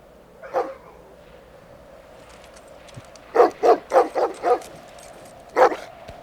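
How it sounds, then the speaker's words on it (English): Several dogs at an Appalachian hollow home bark in a quick burst of five sharp woofs, with a single bark just before and another after, fairly close against quiet outdoor background. "My dogs."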